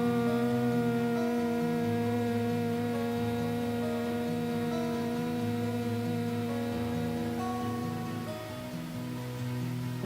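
Several voices hum together in a steady, sustained drone, holding low pitches that shift slowly over about ten seconds with no words spoken.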